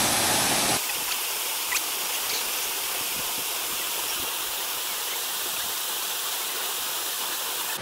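A waterfall in Martinique roars as a loud, steady rush of broadband water noise that stays constant and close throughout, with no voices.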